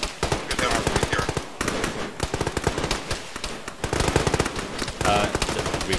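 Rapid bursts of automatic gunfire in a military video game, aimed at a BTR armored vehicle, crackling densely and loudly throughout with brief gaps, mixed with faint voices in the background.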